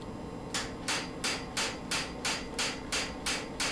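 A power hammer striking hot steel while forging a hot cut hardie, ten evenly spaced sharp blows in a steady rhythm, close and clear over a low background hum.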